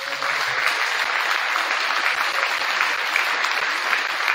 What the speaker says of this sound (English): So if we could give them a quick round of applause.